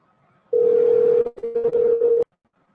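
An outgoing phone call's ringing tone: one steady electronic tone lasting under two seconds, with a brief dip midway. It is clear and close, with no talk over it.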